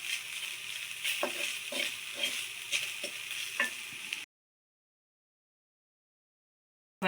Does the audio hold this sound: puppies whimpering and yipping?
no